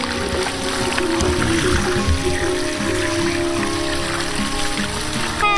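Water flowing strongly from a river pump built from a gasoline drum, a steady close rush and gurgle that continues throughout with no talk.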